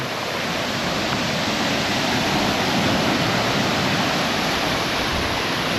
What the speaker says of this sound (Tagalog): yun Recibis Falls ang lakas lang ng alon